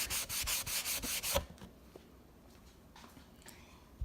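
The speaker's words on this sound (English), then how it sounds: "continue to dip my rag in the wax and continue to do this all over the surface of my vanity top" A rag rubbing wax into a wooden vanity top: a fast, steady run of close, loud scrubbing strokes for about a second and a half, then quieter with a few faint wiping touches.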